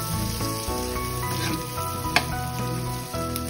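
Onions sautéing in a hot pan for chopsuey, a steady bright sizzle with occasional stirring clinks and scrapes, close and continuous with no talking.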